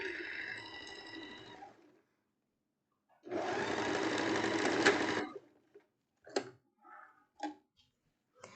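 A sewing machine stitches a blouse in two bursts of running, the second louder and steadier, followed by short clicks and handling noises.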